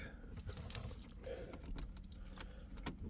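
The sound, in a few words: car key inserted into the ignition, keys jangling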